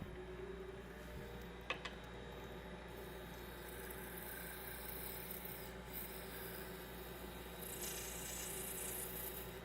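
A nib holder spins on a cap mandrel in a lathe while a cutting tool turns it, producing a continuous close scraping, rasping hum over the motor drone, with one sharp click early on.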